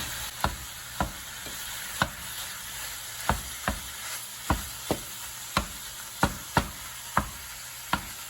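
Ground beef seasoned with salt and pepper browns in a pan, a soft steady sizzle running beneath a regular series of sharp utensil taps and scrapes, with no talking.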